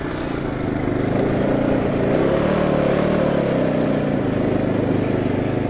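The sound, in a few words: Suzuki LTZ 400 ATV engine riding through a field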